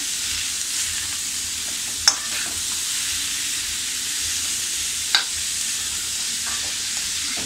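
Radish greens sizzle steadily as they are stir-fried in a pan, a continuous hiss with two brief clinks of a utensil against the pan.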